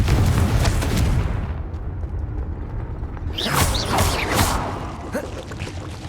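Confringo blasting spell explosions during combat in the video game Hogwarts Legacy, heavy booms and crackling bursts in a dense, loud battle mix, with a second burst of impacts and bright debris-like crackles partway through.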